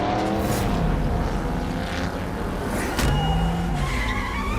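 A car speeding during a chase, engine roaring continuously with a rising whine and tyres squealing in sharp skids, loud and close, with no talking.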